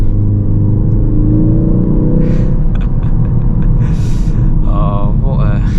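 Interior engine drone and road rumble from a 2023 MK4.5 facelift Ford Focus ST Estate automatic on the move, a steady low hum with shifting tones as it pulls along, with people talking over it inside the cabin.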